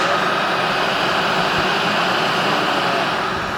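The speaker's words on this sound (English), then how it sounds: "We got the Kercher weed blower" A Kärcher leaf and weed blower runs steadily at a barbecue, giving a loud, continuous broadband roar that holds constant throughout without pauses.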